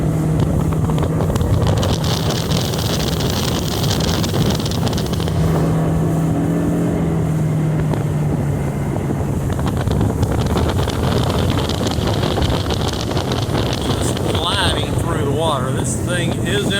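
A 2019 Tracker TX 190 boat's outboard motor climbs in pitch as the hull gets up on plane, droning steadily under heavy wind buffeting on the microphone, with water rush and some talk mixed in.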